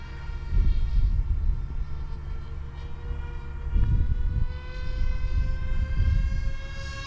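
A small RC model airplane's whining engine drones steadily as it comes in fast to land, its pitch holding as it passes overhead with rising and falling rumbles.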